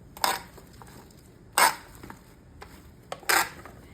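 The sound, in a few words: stirring vegetables with olive oil, salt and pepper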